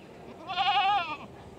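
A goat bleats once on a farm, a single wavering, drawn-out cry up close that rises and fades over about a second against a quiet background.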